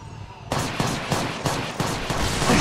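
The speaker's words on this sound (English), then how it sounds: "They're shooting at me!" Video game gunfire cracks out as rapid, loud repeated shots in a dense volley, close and continuous for a couple of seconds.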